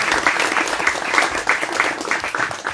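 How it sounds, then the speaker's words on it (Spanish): Loud, steady applause from an audience at a folklore afternoon event welcoming a speaker, with dense clapping throughout the short stretch. "Un aplauso para Lucas, por favor."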